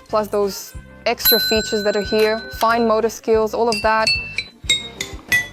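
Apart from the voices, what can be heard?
small bells on a children's busy cube toy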